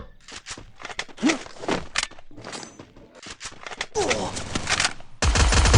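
Rapid bursts of gunfire from the Free Fire video game, with sharp volleys and a dense continuous spray of shots toward the end, mixed with game effects and a voice talking over them.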